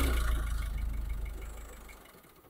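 A Ford Transit Connect van engine, in limp mode from a turbo boost leak, idles with a low, faintly pulsing rumble that fades slowly over a few seconds.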